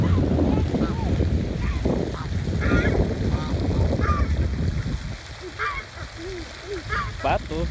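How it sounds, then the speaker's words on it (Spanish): Ducks quack in short bursts on cold water at a frozen lagoon, over a rushing, windy outdoor background, some calls nearer and clearer toward the end. "Patos en el agua fría."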